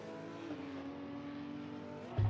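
McLaren race car engine in a racing video game, a steady sustained drone with a shifting pitch, then a sudden low thump at the end.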